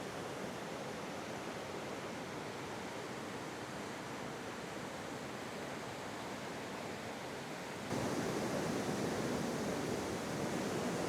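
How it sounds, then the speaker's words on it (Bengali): Strong current of rushing water at Mukutmanipur, a steady broadband roar with no breaks that grows a little louder and brighter near the end. "জলের স্রোত।"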